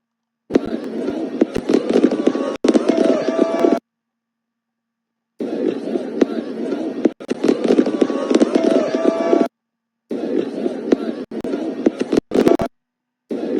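Rapid crackling bursts of fireworks in several long runs, broken by abrupt silent gaps, loud and close.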